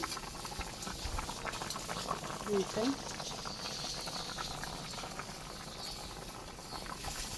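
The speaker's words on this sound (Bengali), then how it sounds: "আমার মাংসে বলক উঠে গেছে" Beef curry bubbling at a steady boil in a pot in a village kitchen, a continuous soft patter and fizz with a brief louder clink partway through, no talk.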